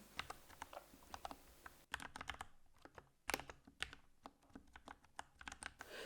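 Python code being typed on a computer keyboard: rapid, irregular clicks of keystrokes close up, with short pauses between bursts and one louder key strike.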